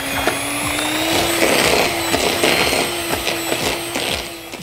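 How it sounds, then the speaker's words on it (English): An electric mixer creaming 2 cups of sugar with 1 cup of butter for a sponge cake, a loud steady motor whir with a constant hum and rhythmic beater clatter throughout. "Right, and you're gonna use a mixer"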